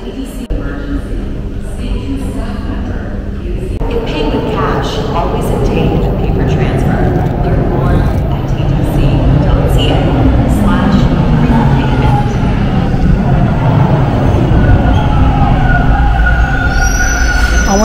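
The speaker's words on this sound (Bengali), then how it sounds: "আমাদের ট্রেন চলে আসছে।" A Toronto subway train pulls into Warden station, a steady loud rumble of the arriving train with rising wheel and brake noise, while people talk throughout and a high squeal appears near the end.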